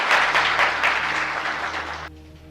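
An audience at a Ramayana quiz competition applauds a correct answer, a burst of loud, rhythmic group clapping that stays steady for about two seconds, then cuts off abruptly, leaving a low hum.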